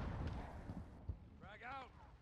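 Grenade blast in the Call of Duty video game, a brief boom that sounds over ongoing battle noise and radio chatter, followed by rising whistling tones.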